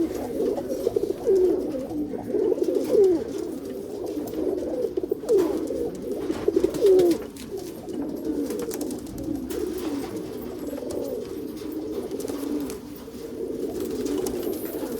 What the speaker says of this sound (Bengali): যাদের সবুজ পায়রা পছন্দ, সবুজ পায়রা অনেকগুলোই রয়েছে, আপনারা দেখুন।